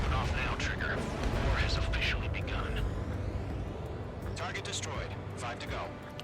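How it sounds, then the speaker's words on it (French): Bomb explosions in the Ace Combat 7 flight combat video game, heavy rumbling booms and bursts rolling over continuous jet and engine noise, with voices heard over the action. "Bombe larguée."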